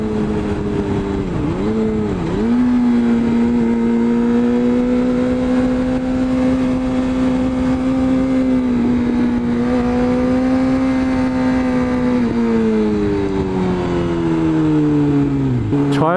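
A Suzuki GSX-R600 engine drones loudly and close at about 4000 RPM in second gear, a steady buzzing tone with a few brief dips in pitch as the throttle shifts.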